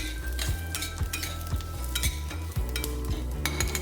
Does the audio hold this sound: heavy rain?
no